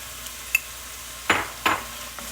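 Asparagus is stirred in a pan with red pepper, giving faint sizzling and two or three short scraping strokes of a utensil against the pan. No voices are present.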